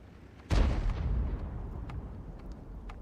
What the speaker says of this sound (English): And it looks like UK Scarface got a hit into the WZ-111 GFT, or Wizzy.